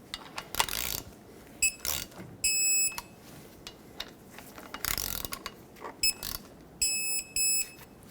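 A ratcheting wrench tightens brake caliper bolts on a 2000-2005 Ford Excursion, giving bursts of rapid metallic clicking separated by pauses and knocks, close and fairly loud, with no talking.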